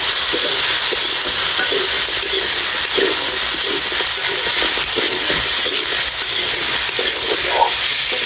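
Onions frying in a pan give a loud, continuous close-up sizzle with frequent stirring scrapes and crackles, unbroken, with no talking.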